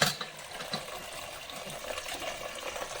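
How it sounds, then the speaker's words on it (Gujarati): Raw bananas being washed in water for a pickle: a steady, fairly quiet wash of running and splashing water with small swishes of handling, close and continuous, with no speech. "પાણીથી સાફ કરીને ધોઈ નાખશું"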